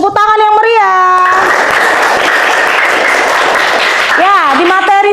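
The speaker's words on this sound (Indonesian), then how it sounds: "Tepuk tangan yang meriah." Enthusiastic applause in a primary maths lesson, dense clapping filling the middle seconds, with bright voices singing or calling out before it and again as it ends.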